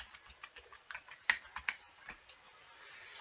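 Fingers type a mobile number on a computer keyboard, giving a string of quick irregular key clicks, close and moderately quiet, with a few sharper taps in the middle and no talking.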